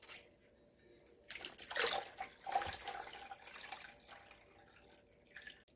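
Water is poured from a bowl into white kimchi brine, a close splashing trickle that swells and fades in a few uneven bursts and then stops.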